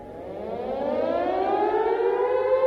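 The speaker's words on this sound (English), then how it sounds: "if you hear a siren, this means there's bombs or rockets incoming." A civil defense air raid siren winds up, its wailing tone rising steadily in pitch and loudness, heard alone and somewhat distant with no voices.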